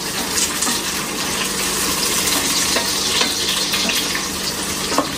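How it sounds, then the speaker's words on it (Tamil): Food frying in a pan on a home stove while being stirred, a close, continuous sizzle with scraping and stirring noises and no talk. "கிளறு."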